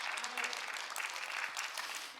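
A church congregation claps steadily together during a sermon, the rhythmic applause dense and close with faint voices mixed in.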